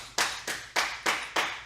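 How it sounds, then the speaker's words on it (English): A single person, a producer, clapping five slow, distinct claps, close and alone in a quiet room during a toy figure unboxing. "You're getting applause from producer Alan just for the simple makeshift ammo belt."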